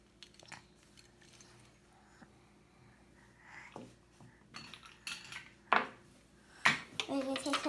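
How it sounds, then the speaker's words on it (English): Toy spoons, knives and forks being handled, with light scattered clinks and rattles building to a few sharper clatters near the end, close by with soft breathing noises. "We're going to take some spoons, some knives, some forks."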